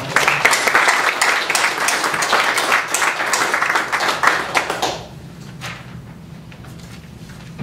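Applause from the members at a church presbytery founding meeting, a loud, full round of many hands clapping that stops abruptly after about five seconds, leaving a quiet room.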